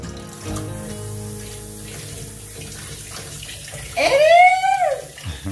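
Hot water from a household tap, freshly heated after the water heater ran for a couple of hours, gushes into a sink in a steady, close rush that swells louder near the end over low background hum.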